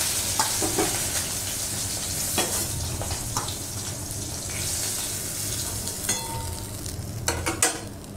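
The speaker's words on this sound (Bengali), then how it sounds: "এই যে সব মাছগুলোই ভেজে নিচ্ছি আমি" Pieces of rohu fish fry in hot oil in a pan, giving a constant close sizzle broken by occasional utensil scrapes and clinks as the pieces are turned.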